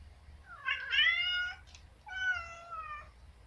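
A cat meows twice, close and clear, a long drawn-out cry followed by a shorter one, over a low steady hum.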